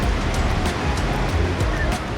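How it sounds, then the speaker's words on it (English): Large ocean waves crash against the shore of Dreamland Beach in Uluwatu, Bali, heard from a distance as a steady, broad roar of surf with repeated swells and no clear breaks. "the huge waves are crushing against the shore of the Dreamland Beach from the side"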